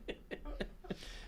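A single person's short burst of several quick, raspy coughs, close and fairly quiet, with no talking.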